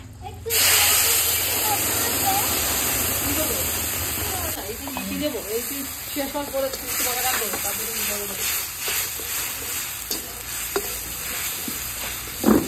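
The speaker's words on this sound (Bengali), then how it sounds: "একটু পাঁচফোড়ন সম্বাস দিয়ে দিচ্ছি" Panch phoron spices crackle and sizzle in hot oil over a village clay stove, a loud burst of frying at first that settles into steady hiss and stirring, with a voice speaking over it.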